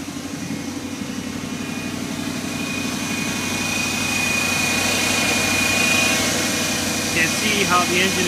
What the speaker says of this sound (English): is my 69 BMW 2002 with the engine running